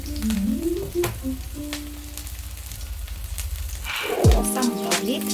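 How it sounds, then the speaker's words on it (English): Garlic drops into hot oil in a pan and sets off a sudden, close sizzle near the end after a stretch of quieter background tones. "Let the oil a little bit hot. Let's put now some garlic."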